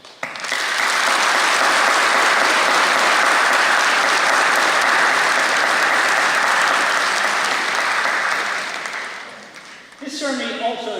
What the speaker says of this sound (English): Graduates, I'd ask you to join me in a round of applause in thanking you and thanking them